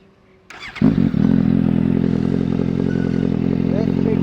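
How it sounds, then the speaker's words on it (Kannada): A Suzuki GSX-S750 sport motorcycle fires up after a brief starter whir, blipping once or twice before settling into a steady, close, rumbling idle exhaust note. "ನಿಮ್ಗೊಂದ್ಸಲ ಎಕ್ಸಾಸ್ಟ್ ನೋಟ್ ಕೇಳಿಸ್ತೀನಿ."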